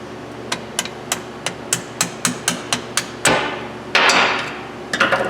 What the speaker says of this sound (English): That's my hammer.